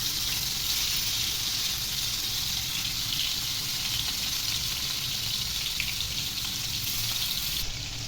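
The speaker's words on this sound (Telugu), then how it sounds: "బీరకాయ ముక్కలను అయితే ఒక్కొక్కటిగా మెల్లిగా వేసుకున్నాము ఆయిల్లో" Continuous loud sizzling of stuffed ridge gourd pieces frying in hot oil, an even crackling hiss close up that runs unbroken throughout.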